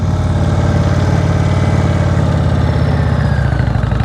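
An Indian motorcycle engine idles steadily, with a continuous low rumble and a throttle held slightly open during slow-speed riding practice. It is loud and close throughout, and there is no talk.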